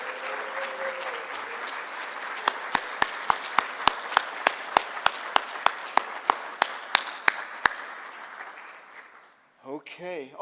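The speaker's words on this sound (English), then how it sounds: "Please rise and give these guys a round of applause." An audience at a SIGGRAPH 2024 pioneers keynote applauds with a steady wash of clapping, while one sharp nearby clapper beats a regular rhythm over it; the applause fades out and a voice speaks at the end.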